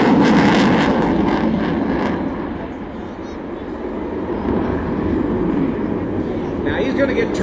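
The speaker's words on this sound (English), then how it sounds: "Now he's going to get turned around and show some more maneuverability capability of the Super Hornet" Boeing F/A-18F Super Hornet jet turning during an air show demonstration at Jones Beach, a broad, steady engine roar that swells and eases slightly across the span, heard at a distance beneath continuous announcer talk.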